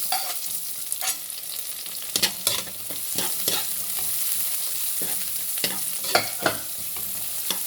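Garlic and onion sauté in a pan with a soft, steady sizzle, punctuated by sharp clinks and scrapes of a spoon stirring, close and without talk.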